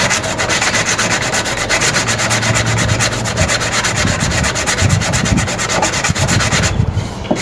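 Continuous rhythmic scratching of 600-grit sandpaper rubbed by hand against a hard PVC edge, close and steady throughout.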